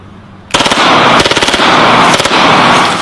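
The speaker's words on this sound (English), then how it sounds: "just shoot it in semi-auto today because it's kind of hard on it" A gun fires in semi-auto, a close, loud series of sharp reports packed into a few seconds after a brief quiet start, with the bursts at times running together.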